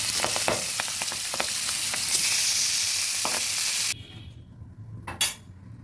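Boal fish pieces frying in oil, giving a loud, steady close-up sizzle with small pops for about four seconds before it drops to a quieter hiss with one brief flare.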